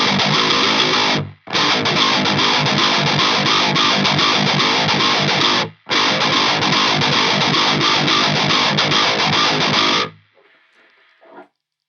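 Heavily distorted electric guitar played through a Blackcat Amps Djenttonic distortion pedal, loud chugging riffs in three bursts separated by brief silences, ending with a short faint hiss and fading notes.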